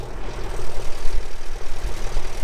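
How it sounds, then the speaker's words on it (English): Engine of a 60-year-old farm tractor running steadily at idle, a continuous low rumble with slight fluctuations, fairly loud and close, with no voices. "So we said at the start we'd talk a little bit about the tractor. You're going to hear it still running."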